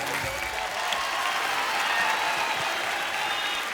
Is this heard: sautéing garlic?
no